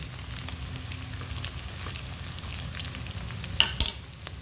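Chicken pakoras mixed with onion, chilli, ginger and garlic sizzle steadily in hot oil, a dense continuous crackle with a few sharper pops near the end and no voices.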